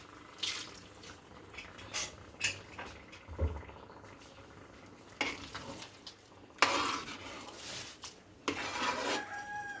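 Water sloshes and splashes as a jar is rinsed, with scattered clinks of metal and kitchen clatter, fairly quiet and close.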